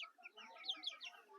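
Chickens kept as backyard poultry cluck in a rapid, overlapping run of short calls, close and fairly loud throughout, with no talking.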